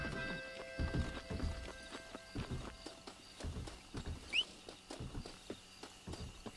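Horse hooves clip-clop steadily in Red Dead Redemption, a series of close, moderately loud thuds at an unhurried walking pace with a brief high squeak partway through.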